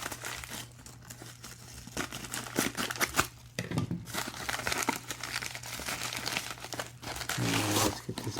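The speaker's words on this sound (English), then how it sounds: "Yeah, I guess I do need the scissors." Cardboard packaging for a Megir watch box is worked open with scissors, producing close crinkling, tearing and snipping sounds in irregular bursts.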